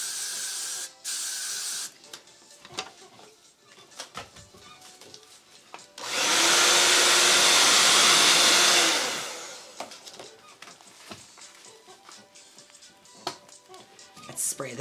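One long hissing hairspray spray of about three seconds onto a wig, loud and close, with quiet handling noises before and after.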